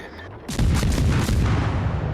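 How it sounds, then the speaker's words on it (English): 5-inch naval guns fire in the World of Warships: Legends game, one heavy booming volley that breaks in after a moment, then a dense, loud rolling rumble that sustains to the end, with no voices. "maybe we can potentially get some of these 5-inch guns to hit his citadel there"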